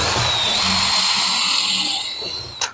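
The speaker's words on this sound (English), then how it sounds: "just drill it till it bottoms out" A power drill bores into window trim with a loud, steady high whine that holds and then winds down near the end, finishing with a short clack.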